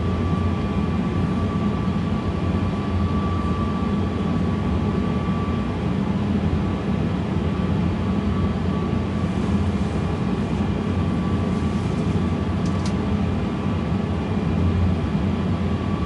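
An Airbus A320 flight simulator produces a steady, even cabin drone with a faint constant tone running underneath, unbroken and fairly quiet throughout.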